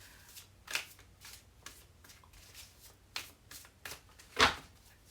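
Tarot cards shuffled in several quick riffling bursts, close and crisp, with short pauses between; the last burst is the loudest.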